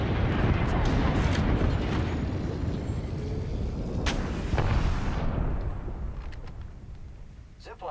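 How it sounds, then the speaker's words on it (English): Burst gun fire in the video game Apex Legends: dense, loud blasts and rumbling battle noise fill the opening seconds, then thin out and fade, with game sounds continuing underneath. "Watch out for that burst gun."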